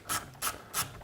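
An E4 inverse Torx socket on a ratchet turns out a screw during a Dodge/Chrysler/Plymouth 2.7L combination switch job, giving three short, close rasping clicks spaced evenly about a third of a second apart.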